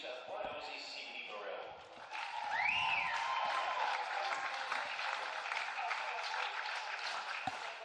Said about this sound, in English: Plenty of applause from the grandstand,